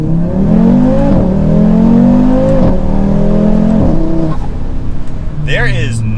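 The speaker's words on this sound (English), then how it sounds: "So let's do another acceleration." An Audi RS3 with intake and exhaust modifications accelerates hard in performance mode, its engine note rising steadily through several gear changes, loud and close from inside the car.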